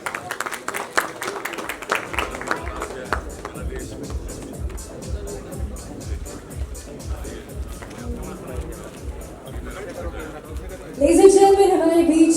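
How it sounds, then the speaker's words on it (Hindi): An audience at a wedding anniversary celebration for a businessman claps and chatters in a lively, continuous stretch of applause, with a voice talking over it and a louder burst near the end. "जोरदार तालियों से आप सब स्वागत करिए।"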